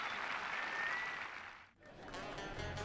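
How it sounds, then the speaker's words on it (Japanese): Stadium crowd cheering and applauding at a Ventforet Kofu retirement match, a broad roar of noise that dips briefly midway before swelling again, heard from a distance. "背番号7の最後の勇姿に会場は大きな歓声と拍手に包まれた。"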